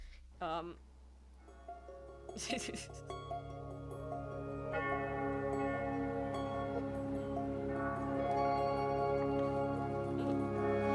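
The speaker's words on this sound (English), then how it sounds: "The church bell sound effect in the back that I just heard" A church bell rings out with a long, resonant tone that lingers and swells, its overtones hanging in the air without fading.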